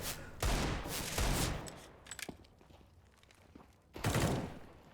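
Desert Eagle pistol fire in the video game CS:GO, heard as loud, dense bursts of shots with a quieter gap of scattered thumps between them.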